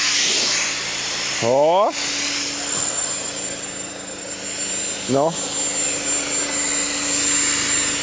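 Homemade electric pump inflating a boat, a steady loud whooshing hiss that runs throughout, with brief spoken exclamations over it.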